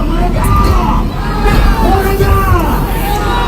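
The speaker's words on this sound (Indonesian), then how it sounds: "momen konvoi berikut ini dengan teriakan merdeka dari banyak warga di sana" A large crowd of residents in a street convoy in North Aceh shouts "merdeka" together, loud overlapping chanting voices and cheers rising and falling continuously up close.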